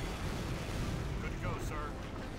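Artillery barrage in the 2004 World War II strategy game Axis & Allies, during the D-Day Operation Overlord campaign: a dense, continuous rumbling roar of gunfire, loud and unbroken throughout.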